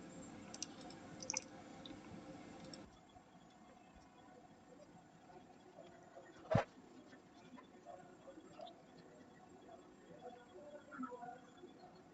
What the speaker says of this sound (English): you can just click the delete button so it will get deleted